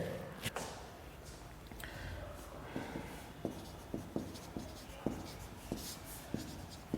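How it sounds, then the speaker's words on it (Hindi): Chalk or pen writing out a definition during a physics lesson on refractive index, a quiet scratching with light taps and strokes at irregular intervals, faint room noise behind, no talk. "आइए लिखते हैं।"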